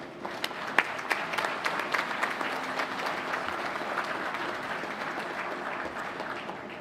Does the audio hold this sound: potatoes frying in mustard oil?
no